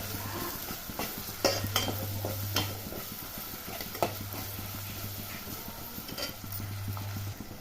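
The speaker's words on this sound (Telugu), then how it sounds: "అల్లం పేస్ట్ పచ్చి వాసన పోయేదాకా మళ్ళీ కలిపిస్తామండి." Ginger paste fries in a pan with a soft sizzle while a spoon scrapes and stirs in repeated strokes, with a few sharper clinks against the pan, close and fairly quiet.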